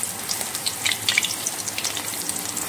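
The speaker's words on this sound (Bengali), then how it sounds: "আর এক পিঠ এইভাবে ভেজে নিই।" Banana flower patties fry in a pan with a bright, continuous crackling sizzle and scattered spitting pops, close and fairly loud, with no voices.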